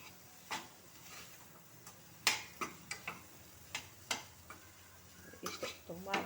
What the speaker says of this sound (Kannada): ಸಣ್ಣ ಉರಿಯಲ್ಲಿ ಚೆನ್ನಾಗಿ ಮಿಕ್ಸ್ ಮಾಡ್ಕೊಳ್ಳಿ